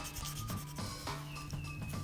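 Wet sanding with 400-grit sanding cloth on a plastic model kit part makes quiet, rhythmic back-and-forth rubbing strokes. Each short, soft scrape repeats at a steady pace, close up with no talk.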